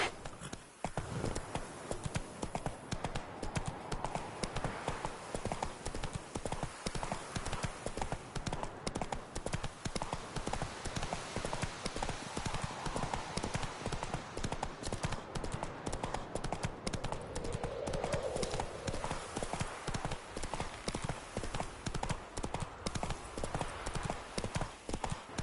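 A horse gallops in The Witcher 3 video game, its rapid hoofbeats drumming continuously and loudly throughout over a wide, steady background of game ambience.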